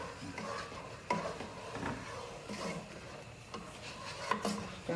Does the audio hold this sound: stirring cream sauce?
yes